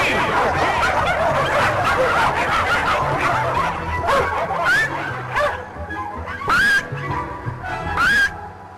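A small chihuahua barks in a string of high, sharp yips and yaps, each short and bright, set against a busy, dense background.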